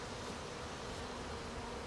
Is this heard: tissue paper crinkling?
no